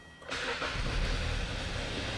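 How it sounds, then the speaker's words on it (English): A car engine turns over and catches after a brief quiet moment, then settles into a steady idle close by, with no talking. "So I'm gonna start the engine now."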